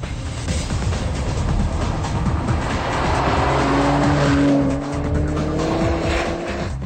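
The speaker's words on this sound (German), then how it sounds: "Innen und außen hört der Kenner deutlich das Turbofauchen." A Nissan Skyline R34 GT-R with a twin-turbo six-cylinder engine roars loudly and continuously under heavy load, with broadband rushing noise and a rising whine in the middle.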